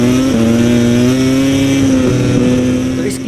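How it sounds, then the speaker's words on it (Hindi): A MotoGP racing motorcycle, heard onboard while overtaking, holds a loud, steady engine howl near the rider, with two quick gear shifts showing as brief drops in pitch. "अब इस क्लिप में आप बहुत ध्यान से आवाज सुनना गियर्स की। अब मार्क मार्केज इस क्लिप में 2 गियर शिफ्ट करेगा एक साथ, जिसको कि शॉर्ट शिफ्टिंग बोलते हैं"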